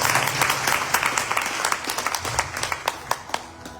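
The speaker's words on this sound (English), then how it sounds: "Give them a round of applause." Applause from a seated audience at a Seva4Life Gyaan Yagya session in Toronto starts as a full round and then thins into separate, sharp individual claps that grow sparser toward the end.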